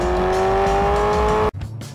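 A sports car engine with its exhaust set to its loudest mode drones loud and steady, its pitch slowly climbing, then snaps off abruptly into a lower, rougher burble near the end.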